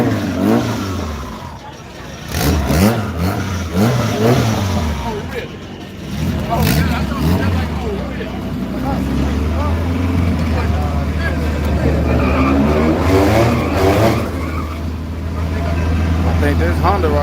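A Honda drag car revs loudly at a dragstrip during night runs, the engine note rising and falling in repeated bursts amid crowd noise and talk.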